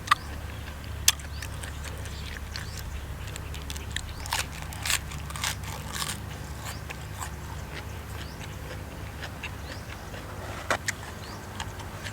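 Crunchy bites and chewing while eating soy-pickled shrimp with seafood dipping sauce, heard as steady close mouth noise with scattered sharp crunchy clicks and a few louder snaps.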